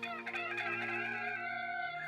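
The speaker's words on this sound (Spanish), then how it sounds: "Y enseguida cantó un gallo." A rooster crows in one long, loud, drawn-out call that holds steady and then trails off, heard alone without talk.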